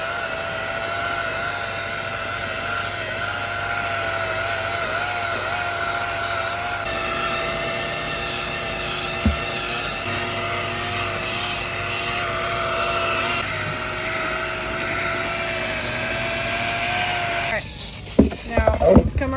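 A rotary polisher compounds weathered boat gel coat at about 1000 RPM, giving a steady, loud mechanical whine with a droning hum that runs throughout and shifts slightly midway, ending with a few clunks as it stops.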